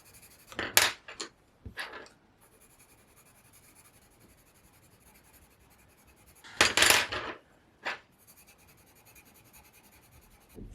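A colored pencil pressed hard on paper makes short scratchy strokes in a few separate bursts with quiet gaps between them, close and faint, alone.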